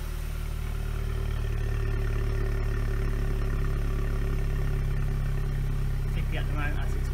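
A small Mercedes SLK200 R172 engine idles steadily on a cold day with a standard exhaust, giving a low, raspy drone that stays even throughout, with a brief clatter near the end.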